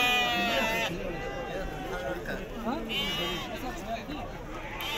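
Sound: sheep bleating at a market for Eid sheep

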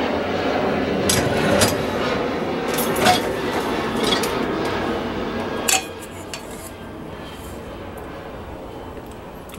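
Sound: clean dishes handled after Midea dishwasher cycle

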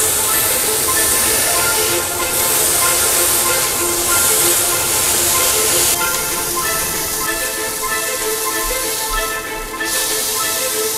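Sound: burger patty sizzling on a hot griddle after flipping

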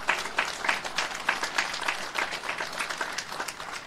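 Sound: applause for the army general

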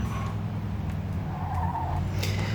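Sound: car skidding and fishtailing in video game Mafia II

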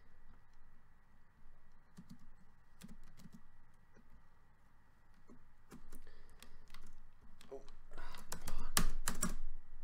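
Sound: typing on a faulty computer keyboard

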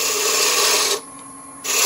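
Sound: roughing gouge cutting wood on a lathe

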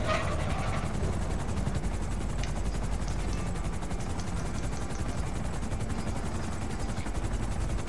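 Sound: helicopter in video game Grand Theft Auto V Online

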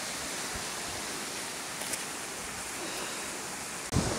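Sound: stream flowing in autumn forest

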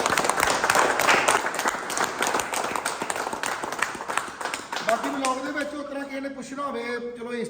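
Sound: gym group applauding

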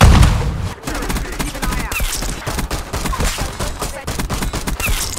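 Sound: pistol gunshot in Black Ops 6 video game, like Half-Life 2 pistol

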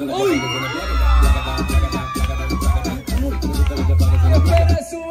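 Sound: crowd applause and cheering for Chuchu Pamela

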